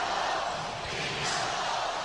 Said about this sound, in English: The chant is beat the Bulls, beat the Bulls.